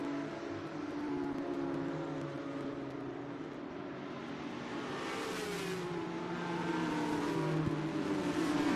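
Ferrari GT race cars battle for the Maranello Cup at Lime Rock, their engines a loud, continuous roar that rises and falls through gear changes and swells toward the end.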